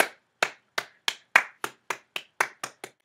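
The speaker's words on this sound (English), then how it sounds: "let's all take a moment to slow clap" Eleven sharp, isolated hand claps spaced evenly at a slow, deliberate pace, each crisp and close with silence between them.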